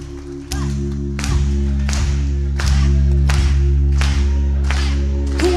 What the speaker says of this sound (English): Throughout the whole song, don't stop clapping.